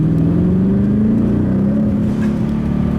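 A 1,000 HP twin-turbo RTR Mustang GT accelerates hard in second gear. Its loud, close engine drone climbs steadily in pitch with a deep rumble underneath.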